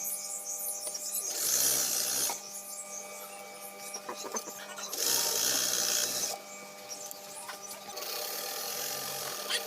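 A sewing machine stitches pants, whirring in repeated bursts of varying length with quieter handling sounds between runs.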